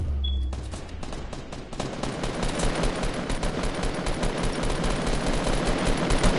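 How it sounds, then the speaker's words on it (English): Sustained rapid gunfire in Fortnite Battle Royale, dense automatic bursts rattling continuously and growing louder over several seconds, with no talk over it. "Somebody shooting at it."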